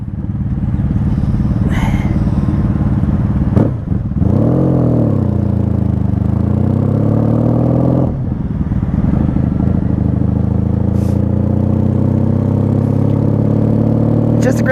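A 1995 Honda Magna V45 VF750C riding at night gives a loud, steady engine rumble with two clear rev swells as it shifts. Someone talks over the engine for much of the ride.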